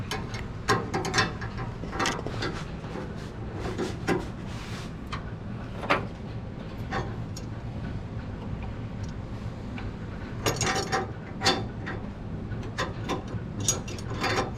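A ratchet tightens a fitting during a Vintage Air install on an E-body car, its pawl clicking in quick rapid bursts with pauses, close and moderately loud over a faint background hum.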